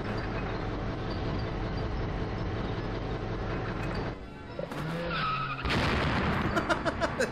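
Cars skid and screech in the Hot Wheels: CRASH! video game, a loud continuous engine and tire rush that breaks into squealing skids and clattering impacts, with no talking.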